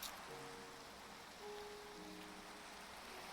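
Steady rain falls in the blocky world of Minecraft, a soft, even hiss of drops holding for the whole stretch, with faint game tones rising briefly above it.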